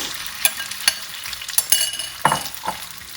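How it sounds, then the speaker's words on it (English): Oil sizzling steadily in a pan while chicken pieces are fried for Gong Bao chicken, with a spatula or utensil scraping and clicking against the pan every so often, up close. "once they kind of start to sizzle up, that's when I'm going to throw in the chicken"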